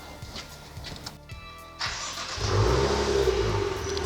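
A 2016 Maserati Ghibli S engine cranks and catches, then settles into a loud, steady idle that swells slightly after starting.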